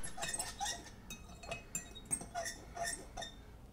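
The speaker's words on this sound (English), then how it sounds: "Stir a little bit of the quinoa." A fork stirs and clinks against a dish of cooked quinoa, a run of light, irregular metallic taps and scrapes close by, with no talk over it.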